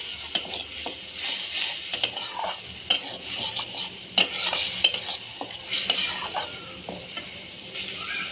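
A turmeric, cumin and salt spice mix stirred into water boils and sizzles in a pan for poppy-seed bata fish, with frequent sharp scrapes and clinks of a utensil against the pan over a constant fry.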